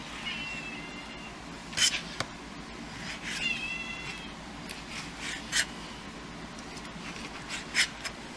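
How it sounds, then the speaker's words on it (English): A pet cat named Roger meows several times near dinner time while pork is being cooked, short distinct cries spaced out over a steady kitchen background hum. "and that's Roger in the background making a meow noise because he can smell and eat"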